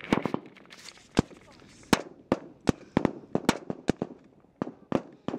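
Gunfire is aimed at British soldiers in Helmand Province, Afghanistan, with a rapid series of sharp, loud cracks arriving irregularly, several close together, while voices speak between the shots.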